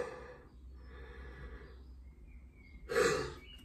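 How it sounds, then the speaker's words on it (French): A person yawns in two drawn-out breathy phases near the microphone, ending in a louder open-mouthed exhale, with no talk. "Visiblement, je bâille en deux fois sur cette vidéo."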